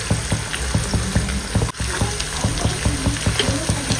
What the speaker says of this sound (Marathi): हाय फ्लेमवर आपल्याला कांदा या ठिकाणी चांगला तळून घ्यायचा आहे